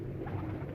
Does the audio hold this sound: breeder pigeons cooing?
yes